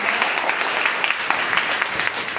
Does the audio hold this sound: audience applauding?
yes